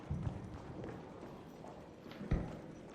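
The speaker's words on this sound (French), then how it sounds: "J'ai entendu des bruits de pas." Footsteps of a nearby player in the video game Arc Raiders: a couple of soft, dull thuds near the start and again later, over a quiet, steady game ambience.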